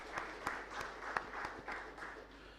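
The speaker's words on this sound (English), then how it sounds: "Would everyone join me in applauding what Amul did for the country?" Faint, sparse audience applause at a talk about the Amul dairy cooperative, a soft wash of clapping with a few distinct claps spaced through it, distant and quiet.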